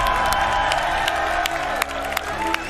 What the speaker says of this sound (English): Can we get a round of applause for Stig, everyone?